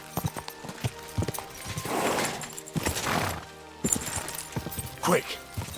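Horse hooves clip-clop in the video game Kingdom Come: Deliverance 2, a rapid uneven run of nearby hoofbeats under a rider's spoken commands and a brief whinny-like burst.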